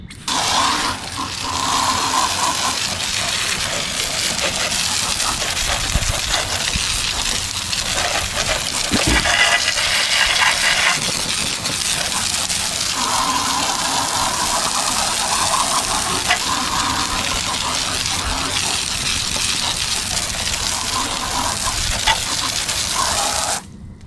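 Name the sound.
water rinse spraying foam off a dirty car wheel rim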